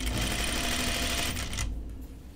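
A domestic sewing machine stitching a tunic seam runs in a steady, fast continuous whir for most of the clip, loud and close, then stops abruptly near the end, leaving a quiet room tone.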